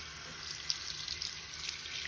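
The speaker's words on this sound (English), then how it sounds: "So now I'm gonna rinse this off with warm water." Warm tap water runs steadily into a sink as a woodwind mouthpiece is rinsed, a constant hiss with a few small splashes and no talk.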